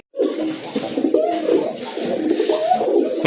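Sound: Danish pigeons cooing

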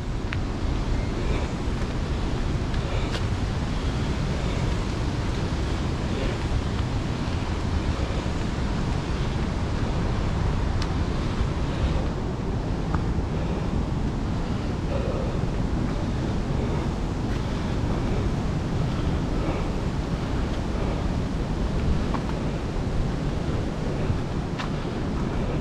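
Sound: ocean waves breaking at Burleigh Heads, Queensland

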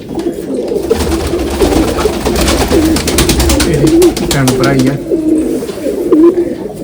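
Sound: pigeons cooing

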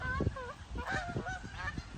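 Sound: birds honking in a park

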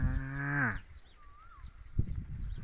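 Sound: cattle mooing in field

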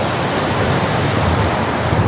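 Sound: ocean waves on the shore

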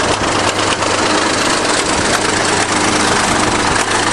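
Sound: 1953 bulldozer diesel engine idling

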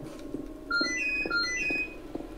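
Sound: mobile phone ringtone

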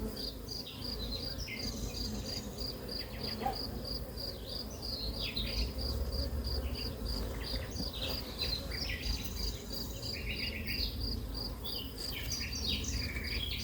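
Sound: honeybees buzzing at an open beehive

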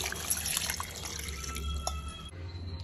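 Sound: water being poured into a bowl of guava leaves

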